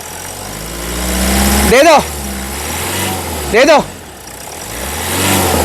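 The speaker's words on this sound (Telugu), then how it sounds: "ఎక్ బార్ రేస్ దేదో గాడీకు" A 2014 Toyota Corolla Altis G engine idles steadily, with two short throttle blips swelling to revs and falling back, under a voice speaking throughout.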